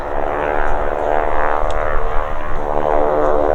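Tiger Moth biplane flying past at an airshow, a continuous propeller engine drone with a buzzing harmonic tone, fairly loud and steady throughout.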